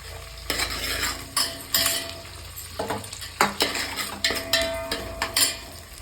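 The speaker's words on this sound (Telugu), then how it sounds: "ఉల్లిగడ్డలు వేసి ఇట్లా కలపాలి" Sliced onions are stirred in a hot cooking pan: a spatula scrapes and knocks against the metal in repeated, uneven strokes over a steady frying sizzle, close and clear, with no talking.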